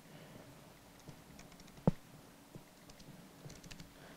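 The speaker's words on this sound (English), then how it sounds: "we are utilizing behind the scene a Logitech wireless keyboard" Soft typing on a Logitech wireless keyboard taps out irregularly in quiet surroundings, with one sharper click standing out midway.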